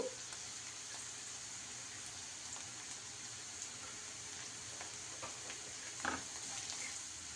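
Onions frying and sizzling in a pan for an egg masala curry, a steady dense hiss running throughout with a few faint pops and clinks, no voices.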